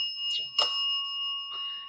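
Steady electronic ringing tones from a doorbell, a sustained multi-pitch chime holding throughout, broken by a couple of short noisy bursts, fairly close.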